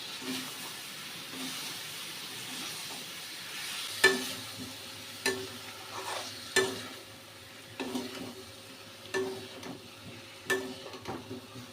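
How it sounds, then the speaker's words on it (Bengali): Potatoes with spices fry in a pan for a vegetarian dish, giving a soft steady sizzle broken by a series of distinct scraping stirs and clinks of a spoon against the pan, close and fairly quiet. "মশলাটাকে ভালো করে আলুর সাথে কষিয়ে নিয়েছি।"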